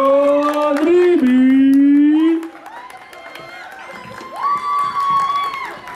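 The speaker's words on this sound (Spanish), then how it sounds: "aplauso por favor a Chayo Dribi." A crowd at a local idol festival cheers and whoops, with loud high shouts and some clapping that soon fade to a quieter murmur before a second swell of cheering toward the end.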